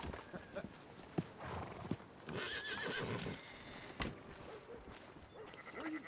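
A horse in the Red Dead Redemption 2 video game clip-clops along at a walk and gives a short neigh, with soft game ambience and quiet voices around it.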